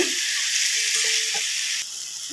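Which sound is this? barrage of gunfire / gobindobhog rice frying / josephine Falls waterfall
gobindobhog rice frying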